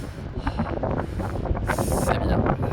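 Wind buffeting the microphone while riding a bicycle along a coastal road toward Ho Chi Minh City, a loud, gusty rumble that rises and falls continuously from start to finish.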